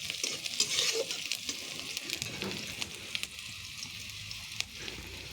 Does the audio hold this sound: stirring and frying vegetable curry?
yes